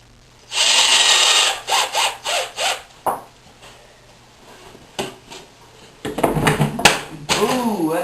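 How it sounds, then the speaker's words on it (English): A drill drives screws into a wooden outfeed table in a series of short, close whirring bursts, followed after a pause by more scraping and handling noise, with a voice briefly heard. "I'll start a couple of pilot screws on this one. And we'll screw it on."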